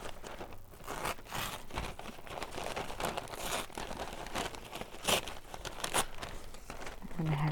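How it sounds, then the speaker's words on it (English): Paper torn by hand in short, rough crinkling rips, with crumpling between them, close and fairly quiet. "And I need to tear it."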